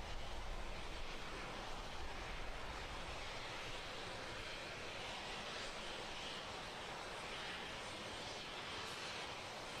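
SpaceX rocket engines roar during the CRS-14 Dragon launch ascent as a steady, broadband, distant rumble and hiss that holds constant with no talk over it.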